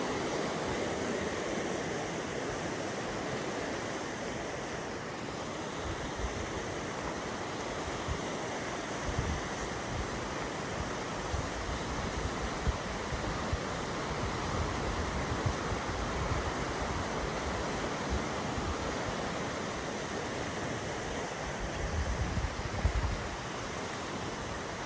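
Broad, steady rushing of river whitecap rapids in spring, a dense continuous roar of churning water with no breaks, fairly loud and close, with faint wind noise mixed in.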